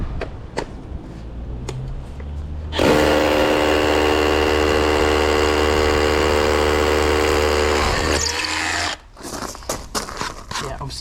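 A Bosch SDS Max hammer in chisel mode breaks brick with a loud, sustained, rattling roar that lasts about five seconds, then cuts off. Lighter knocks come before and after it.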